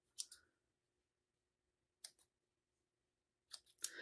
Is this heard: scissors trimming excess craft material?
yes